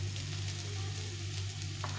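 Raw banana pieces fry in a pan with a continuous, even sizzle over a low steady hum, close and moderately quiet.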